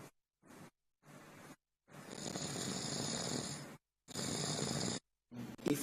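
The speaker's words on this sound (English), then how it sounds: "how you want to sleep with this kind of snoring?" Loud snoring in repeated rasping bursts separated by brief silences, the longer inhalations drawn out and harsh, close to the listener.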